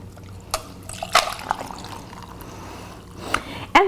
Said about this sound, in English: I'm going to pour it out.